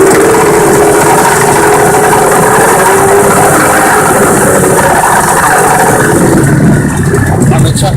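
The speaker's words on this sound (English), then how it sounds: "So the engine's coming up out of the water." Boat outboard engine running loudly and continuously as it is tilted up out of the water, a steady mechanical roar with broadband churn throughout.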